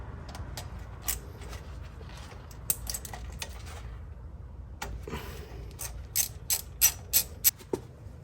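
A hand ratchet clicks as it turns a Torx socket on a 2007 Porsche 997 Turbo during a spark plug and coil job, with quiet mechanical clatter and then a run of sharp, close ratchet clicks near the end.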